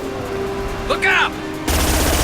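Gunfire erupts in Mass Effect Legendary Edition amid a sci-fi combat soundscape: a steady tonal hum and a brief voice-like call, then a sudden dense burst of loud rapid shots at the end.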